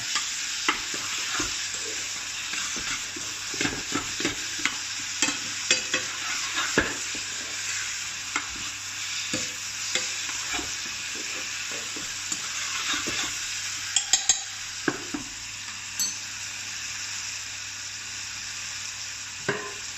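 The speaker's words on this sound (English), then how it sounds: "what you want is the tomatoes to start breaking down and stewing in the pan" Steady frying sizzle of tomatoes breaking down and stewing in a pan, with frequent clinks and scrapes of stirring, close and continuous throughout, no voices.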